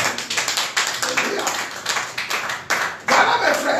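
A church congregation claps rhythmically, a dense run of close, sharp hand claps that swell louder toward the end, with voices mixed in.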